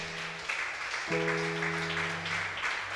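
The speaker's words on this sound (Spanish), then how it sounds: "Dele ese aplauso al Señor." Church congregation applauding the Lord after a prayer, a steady wash of clapping with sustained musical tones, likely organ or keyboard, running underneath throughout.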